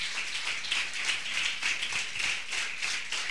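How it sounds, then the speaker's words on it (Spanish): Congregation clapping in a Spanish-language church service, a steady, fairly faint patter of many hands with a loose pulsing rhythm and no talk over it. "Dale una ofrenda de aplauso al Señor."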